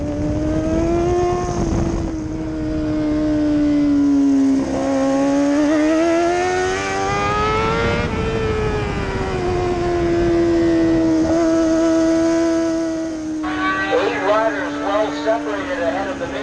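Racing motorcycles at the Grand Bend racetrack during AM 600 Extreme round two, engines whining and rising in pitch as several bikes sweep past in succession, loud and sustained beneath a commentator's running talk.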